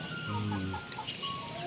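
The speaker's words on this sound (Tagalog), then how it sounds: "Napay manok na to." A native chicken clucks up close in a few short, soft calls over a low outdoor background, with a brief murmur of talk.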